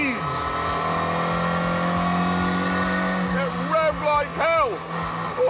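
A Ford Cortina Genesis with a twin-cam 1.6-litre engine revs hard, its buzzing note rising and falling through sharp throttle blips, with someone talking over the engine early on.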